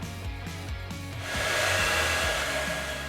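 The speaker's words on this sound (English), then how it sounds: "Heat the window film using a hairdryer on a medium temperature setting until it shrinks up tightly" Hairdryer on a medium heat setting blowing over plastic window insulation film, a steady close whirring hum that gets louder and brighter partway through, with no talking.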